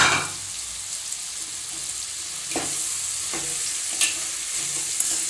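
Bottle gourd pieces stirred with spices in a hot pan for a bottle gourd kuzhambu, a steady soft sizzle with a few scraping stirs of the spoon, close and alone with no talk.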